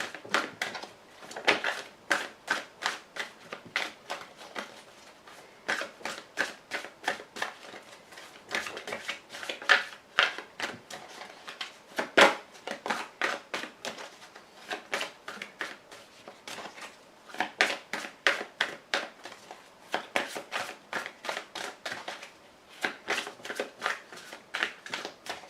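Tarot cards riffled, cut and shuffled by hand in a long run of crisp, rapid flutters and snaps, close and fairly loud, with brief pauses between bursts and no talking.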